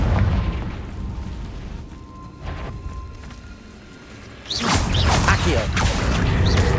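A Confringo fire-blast spell explodes in the video game Hogwarts Legacy: after a quieter rumbling stretch, a loud, booming burst with crackling debris hits midway and keeps roaring to the end.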